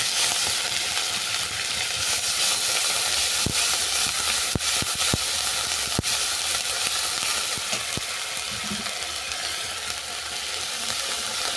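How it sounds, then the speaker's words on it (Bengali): Onion paste sizzles steadily in hot oil with dried red chilli in a pan for a Bengali mustard fish curry, a close, even hiss broken by occasional sharp pops and stirring clicks. "ফোড়নটা ভেজে নেওয়ার পর দিয়ে দিলাম পেঁয়াজ বাটা"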